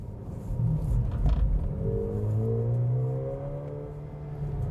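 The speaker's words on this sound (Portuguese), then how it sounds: "esse ronquinho esportivo do carro aqui também deixou ele bem legal" Sporty engine rumble of a Volkswagen Nivus GTS driven at night, a low steady growl that swells as the revs climb and then eases off, close and alone.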